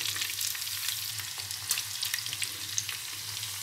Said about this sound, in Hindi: चिकन को क्रिस्पी होने तक फ्राई करें मीडियम फ्लेम पर